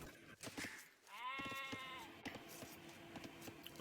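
A sheep in the Age of Empires strategy game gives a single wavering bleat amid soft game clicks and ambient effects, fairly quiet.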